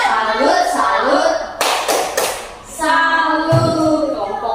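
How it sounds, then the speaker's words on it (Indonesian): Classroom group gives a brief rhythmic salute clap, a few sharp claps in the middle amid children's chanting and a teacher's voice. "tepuk salut untuk kelompok 2"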